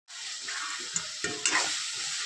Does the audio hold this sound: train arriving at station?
no